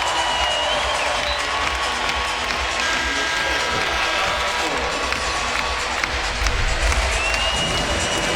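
Dense, roaring arena crowd at a Virginia Tech vs Louisville college basketball game in Louisville, sustained cheering and applause filling the space steadily throughout with no break.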